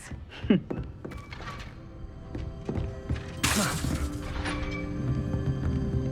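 A spell in the video game Hogwarts Legacy slams an object down, heard as a sharp thunk with shattering clatter and a magical whoosh, surrounded by chimes and a busy mechanical game soundscape.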